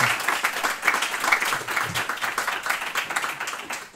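An audience applauds after a tech presentation at a community meetup, a steady mid-sized round of clapping that holds for several seconds and then tapers off.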